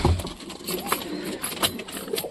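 Pigeons coo softly in a cluster, low throaty calls mixed with faint background noise and scattered bird sounds.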